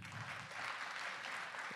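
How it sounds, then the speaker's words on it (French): An audience at a big band concert applauds, a dense, steady wash of clapping that stays at an even level for the whole stretch. "une main d'applaudissement pour M."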